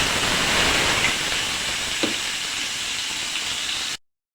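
Shrimp dropped into a pan of frying onions, sizzling in a steady, close, broadband hiss that runs evenly for about four seconds before cutting off abruptly.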